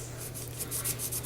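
Brief, close rubbing on a handmade window card as a bit of glue is rubbed off: a dry, steady, scratchy friction sound.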